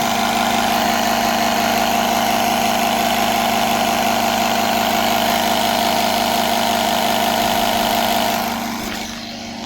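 A portable tire air compressor inflates car tires with a steady, loud mechanical hum and buzzing tone, running alone for most of the stretch before winding down at the very end.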